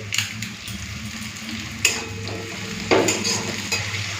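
Onion frying in oil in a pan with bay leaves for a mutton curry, a steady close sizzle broken by a few sharp scrapes and knocks of a stirring utensil, with no speech.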